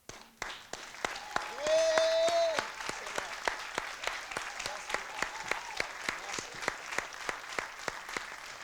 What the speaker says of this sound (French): on peut aussi applaudir à tous les rois et les reines